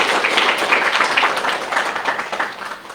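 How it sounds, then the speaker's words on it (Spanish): Audience applause fills a hall at a talk event, a steady wash of many hands clapping at moderate loudness throughout, with no speech over it. "Recibámoslo con un aplauso,"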